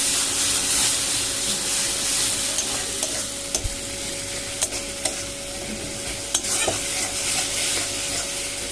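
Spice masala for a fish curry cooking in a hot pan, a loud, close, steady sizzle and hiss with occasional sharp spoon taps and scrapes as it is stirred, no one speaking.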